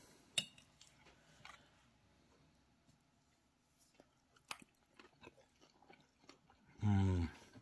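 Close, quiet biting and chewing of a crunchy oven-baked chicken enchilada burrito: scattered soft crunches and clicks, then a brief louder voiced sound at the end.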